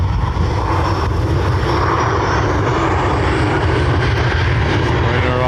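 A Ryanair jet bound for Luton, operated by Malta Air, takes off from runway 10R at Dublin Airport. The engines give a loud, continuous roar with a rising whine, heard nearby.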